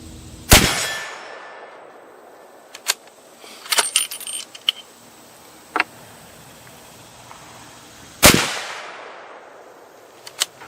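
Two loud, sharp .270 Win rifle shots firing Remington Premier Scirocco Bonded ammunition at an outdoor range, spaced about eight seconds apart, each with a trailing echo, and clinks and rattles of handling between them.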